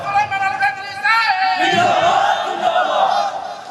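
Crowd at an Islamic religious gathering shouting a loud call in unison, voices rising together and sustained for several seconds, dense and close with a sharp swell near the one-second mark.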